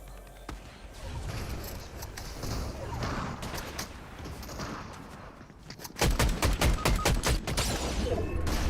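OXR rifle firing in Fortnite, rapid gunshots over busy game noise, growing sharper and louder partway through as a quick run of close, punchy shots rings out.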